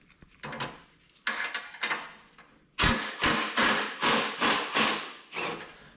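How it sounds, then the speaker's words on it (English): Handlebars being taken off a Craftsman MTD snow blower: a run of sharp metallic knocks and thuds, a few spaced strikes followed by a rapid series of loud, evenly paced blows close up, with no talking. "So I'll take the handlebars off and see where that gets me."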